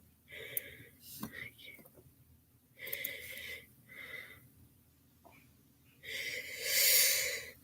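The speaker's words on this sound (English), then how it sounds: "I know you guys can hear me breathing," Congested, wheezy nasal breathing of a person working closely on small parts of a 2824 watch movement during servicing, coming in several soft bursts of airy hissing and snuffling at close range with no talk.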